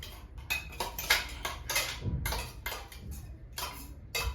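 Green chili chopped fine is stirred into a dish in a pan for a home-cooked, restaurant-style meal, with a spoon scraping and clinking in quick irregular strokes, fairly close and steady.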